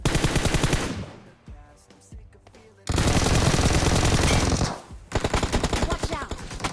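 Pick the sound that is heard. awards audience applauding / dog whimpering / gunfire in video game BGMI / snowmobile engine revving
gunfire in video game BGMI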